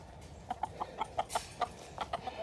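Several chickens cluck in a quick, irregular series of short calls in an indoor pen during a clean-out amid bird flu concerns, fairly close and unaccompanied by talk.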